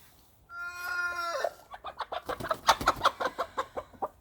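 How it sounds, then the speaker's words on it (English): A rooster crows in a long drawn-out call, then breaks into a rapid run of loud, close clucks from the garden fowl nearby, with no talk over it. "The rooster is behind us."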